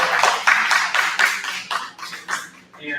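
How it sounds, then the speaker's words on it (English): Audience applause at a union convention in a hall, a short burst of many hands clapping close and loud, fading out after about three seconds, no voices. "let's give them a round of applause"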